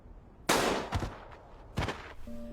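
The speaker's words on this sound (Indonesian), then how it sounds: "Duar, ada suara tembakan" Two sharp, loud gunshot-like bangs about a second apart, each with a short ringing tail, over a quiet background.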